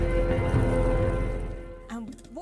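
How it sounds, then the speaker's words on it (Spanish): Simulated heavy rain hisses steadily onto a miniature desert model, a dense close wash that fades in the second half as a voice begins speaking. "Lo que veremos aquí es una demostración en miniatura de qué es lo que ocurre si empieza a caer una gran cantidad de lluvia."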